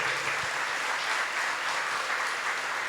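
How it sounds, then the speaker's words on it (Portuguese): An audience at a religious gathering in Cachoeira Paulista claps in steady, dense applause that holds evenly throughout, sounding like a large crowd at moderate distance. "Um aplauso, pode aplaudir você."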